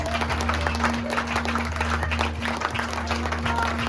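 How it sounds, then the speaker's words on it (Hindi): A church congregation claps together at an inauguration, a steady dense patter of many hands lasting several seconds over a faint hum. "जोरदार इस संस्था के लिए हम एक बार ताली बजाएंगे"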